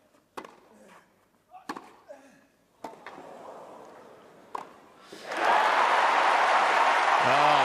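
Wimbledon Centre Court crowd during the 2024 men's singles final, roused by Carlos Alcaraz against Novak Djokovic: a few scattered claps and thuds, then a sudden loud, sustained wave of cheering and applause for the last two seconds.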